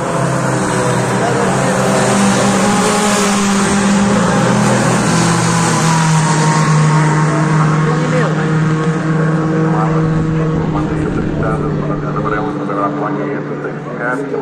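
Racing cars, among them a Datsun 200 and a Fiat Punto 1200, roar past in a loud sustained engine drone that swells and holds, with voices talking over it.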